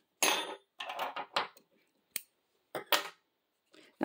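Scissors snip crochet yarn close by, giving a few sharp, quiet cuts and clicks with short gaps between them and no speech.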